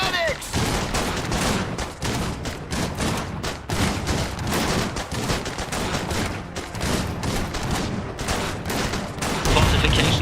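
Sustained fusillade of rifle and machine-gun fire in the dieselpunk strategy game Iron Harvest, dense overlapping shots rattling continuously for the whole stretch, loud and close, with voices calling out beneath it.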